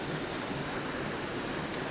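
Constant close roar of falling water from a small, roughly three-meter polluted waterfall at Waterfall Palace in Johannesburg, a brief, even wash of noise with no talking.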